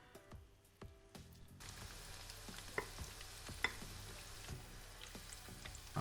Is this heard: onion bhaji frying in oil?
yes